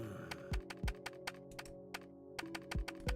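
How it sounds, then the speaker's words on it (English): A computer mouse and keys click in a quiet room, sharp separate taps in an irregular rhythm, close and fairly loud over a faint steady hum of electric fans. "save for the electric fans humming and Daru's mouse clicks"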